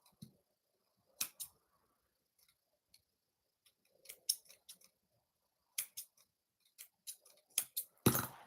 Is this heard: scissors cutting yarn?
yes